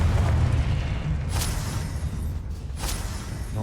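Confringo fire spell blasts in Hogwarts Legacy, a series of heavy booming explosions under a constant low rumble, with two sharp bursts standing out near the middle and end, loud and close.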